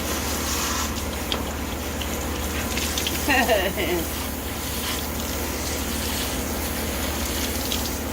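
Running water rinses a cleaned redfish outdoors, a steady broadband rush under faint background noise, close and continuous throughout.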